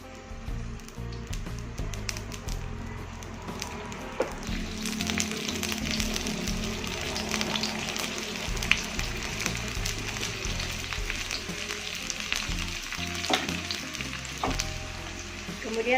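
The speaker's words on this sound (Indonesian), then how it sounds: "Panaskan minyak 10 ml. Masukkan bawang merahnya." Shallots frying in 10 ml of hot oil for an Acehnese white-cooked beef dish, a steady close sizzle and crackle running throughout with occasional stirring clinks and scrapes, no talking.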